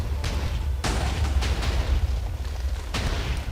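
A huge TNT explosion in the Minecraft video game, heard as a string of muffled booms and blasts landing in irregular bursts over a low steady rumble, fairly quiet overall with no talking.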